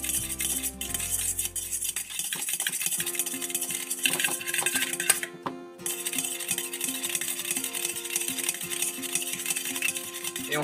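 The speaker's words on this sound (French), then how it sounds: "On va rajouter le vinaigre balsamique. Donc en fouettant la préparation petit à petit." A whisk beating salad dressing of balsamic vinegar, mustard and garlic in a bowl, giving continuous rapid clinking and scraping at close range with no talking.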